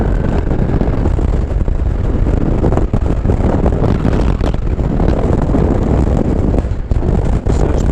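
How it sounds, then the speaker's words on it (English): Strong wind buffets the microphone during a motorbike ride on a windy day, a loud, constant roaring rumble with gusty fluctuations and no clear voice. "So it's pretty windy today."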